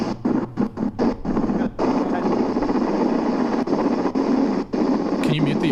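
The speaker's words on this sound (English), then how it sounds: "Okay, there's the helicopter." Helicopter rotor and engine drone from a watched video playing back, a steady loud whir with rhythmic chopping, under people talking over it.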